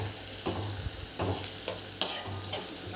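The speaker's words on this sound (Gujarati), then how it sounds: "હવે ગેસની ફ્લેમ એકદમ સ્લો કરી દેવાની અને આને બરાબર સંતળાવી દેવાનું।" Onion with garlic and chili paste sautéing over a low gas flame, stirred with repeated scraping strokes over a continuous soft sizzle and an occasional sharp clink of the utensil.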